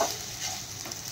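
Rice with cumin powder and salt sautéing in a pan gives a soft, continuous sizzle with faint scraping of stirring, quiet and close, with no voices.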